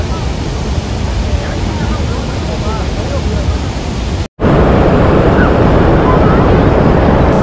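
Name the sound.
Athirapally waterfall on the Chalakudy river, rushing water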